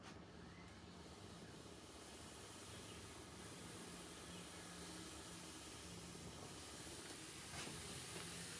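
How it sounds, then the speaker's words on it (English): A handheld garment steamer hisses steadily while it is held over synthetic wig fibres. The hiss is a faint, even, continuous rush with no talk. "you just gently hold the steam there and pull down"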